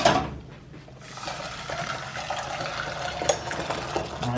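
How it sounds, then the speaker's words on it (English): Water is poured into a cooking pan with salt already in it, a steady, close rushing splash that runs continuously for several seconds after a brief quiet start. "And then add some water."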